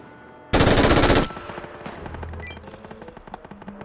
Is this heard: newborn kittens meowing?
no